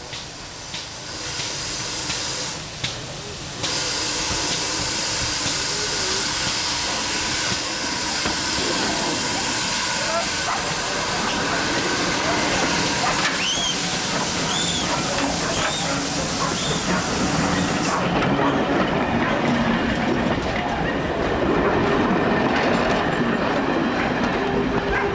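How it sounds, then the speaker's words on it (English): GWR Pannier Tank No.1369 hauls a service train toward Totnes past the ungated crossing at Napper's Halt, loud steam hiss and rolling clickety-clack with a whistle blast, close and sustained, with brief faint talk. "A shrill blast from the whistle of Pannier Tank No.1369 as it approaches the ungated crossing at Napper's Halt warns motorists and pedestrians of the passing of a service train"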